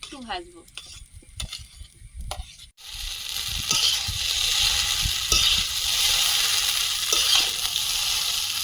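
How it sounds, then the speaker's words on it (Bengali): Chicken and noodles for village-style chicken chow mein sizzle loudly in a pan. The sound starts quieter with scraping stirs, then jumps to a steady, dense frying hiss, with occasional clinks of the stirring utensil. No voice is heard. "একটু ভাজবো চিকেন চাউমিন"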